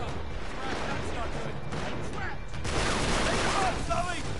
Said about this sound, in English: Are they shooting at us?